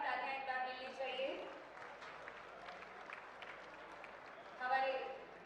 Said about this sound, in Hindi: सभी की तरफ से जोरदार वाली तालियां एक बार मिलनी चाहिए।